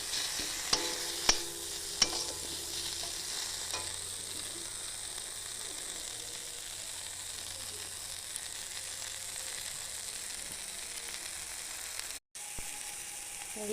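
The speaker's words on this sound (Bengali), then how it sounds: "ভালো করে ভাজা ভাজা করে নিচ্ছি।" Onion and tomato fry in oil in a wok for a small-fish curry, a steady soft sizzle with a few faint clinks of a stirring spoon near the start, no talking.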